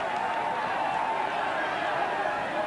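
A large stadium crowd at a 1988 St Kilda versus West Coast Australian rules football match gives off a continuous, even roar of noise throughout.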